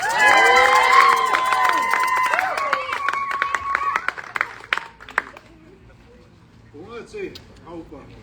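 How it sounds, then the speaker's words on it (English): Loud applause and cheering from a crowd with whistles at an outdoor protest by a conquistador statue, fading out and followed by a voice speaking. "Give them rounds of applause."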